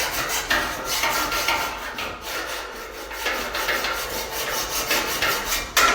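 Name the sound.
hacksaw cutting ladder rung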